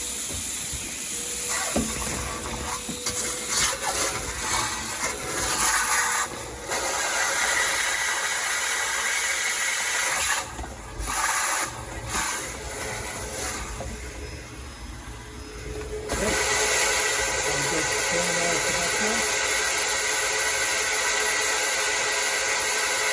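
An OASE Pond Vac 4 pond vacuum running with a loud, steady hissing suction roar, cutting out briefly a few times before resuming, with water rushing through it.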